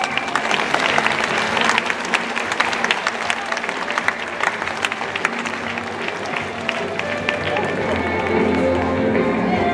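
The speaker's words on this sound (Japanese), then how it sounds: "今一度拍手をどうぞ" Crowd at a send-off gathering for high school track and field athletes heading to the national inter-high championships claps steadily, a dense patter of hands with some voices mixed in, continuing throughout.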